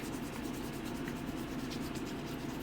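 Steady, soft abrasive rubbing of sandpaper on a deer antler being shaped into a fishing lure, continuous and close with no talk.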